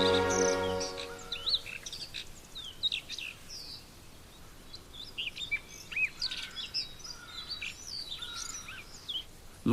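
Blue rock thrush calling in a Mediterranean gorge or cliff setting, a series of bright chirps and short whistled phrases scattered across the clip at moderate distance, with faint insect hum beneath.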